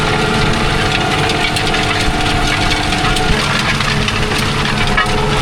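Farm machinery, including a tractor, runs close by with a loud, steady engine drone and a low knocking vibration that continues evenly throughout, with no talk over it.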